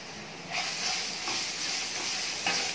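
Grated raw mango sautéing in a pan, a steady loud hiss and sizzle with a few swelling bursts as the shreds are stirred, no voices.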